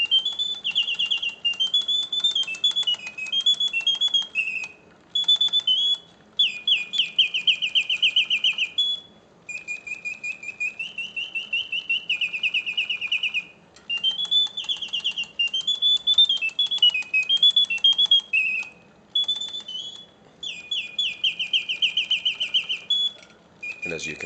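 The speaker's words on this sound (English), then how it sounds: "This is a wonderful Reuge singing bird cage." Reuge double singing bird cage automaton whistles mechanical birdsong, bright trilling phrases and warbles in repeating bursts with brief pauses, steady and close over a faint mechanism hum.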